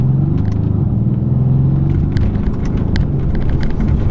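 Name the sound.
Mercedes C63s AMG Coupe engine rumbling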